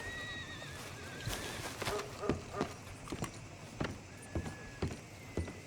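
A horse in Red Dead Redemption 2 whinnies several times over intermittent hoof clip-clops, close and clear, with a brief burst of talk mixed in.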